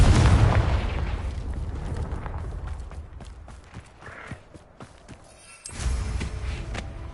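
In the video game Hogwarts Legacy, a Confringo spell sets off a loud blast that rolls off into crackling debris and scattered pops. A second heavy burst comes near the end.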